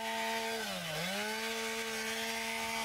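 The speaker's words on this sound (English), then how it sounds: "the saw is held vertical and just enough bar depth to feel the rafter" A chainsaw cuts through a residential roof for ventilation, its engine whining at a steady high pitch that dips briefly as the bar bites into a rafter, then recovers, close and loud.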